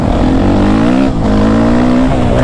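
A Suzuki RM-Z450 dirt bike ridden on dry, dusty ground gives a loud, close four-stroke engine drone that holds a steady pitch, dips briefly, then climbs again under throttle.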